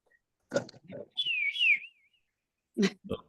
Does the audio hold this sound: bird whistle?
yes